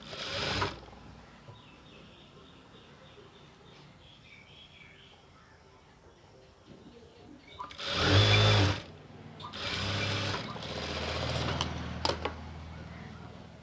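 A sewing machine runs in short bursts while stitching the leg seam of a dhoti salwar, with a couple of loud close whirring runs after a long quiet stretch of faint mechanical ticking.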